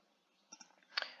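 A few faint, sharp mouse clicks, two close together and then a slightly louder one, sound in a quiet room while a trigonometry lesson is taught on a computer.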